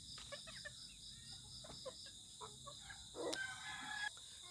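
Chickens clucking and a rooster calling near a hut, faint scattered clucks and short calls over a quiet outdoor background with insects.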